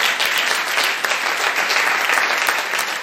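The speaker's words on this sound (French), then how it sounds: "Acclame Jésus." A church congregation applauds steadily during a French-language sermon, a dense, even wash of many hands clapping at moderate loudness for the whole stretch, with no speech on top.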